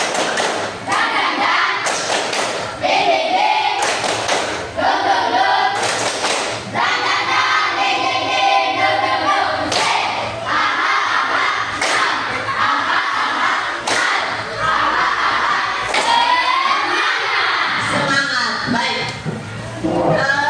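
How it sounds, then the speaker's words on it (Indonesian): Students at a school perform rhythmic spirit clapping, sharp loud thumps and claps in a patterned beat, mixed with shouting voices and crowd noise across the whole stretch. "Kita tunjukkan dengan tepuk semangat."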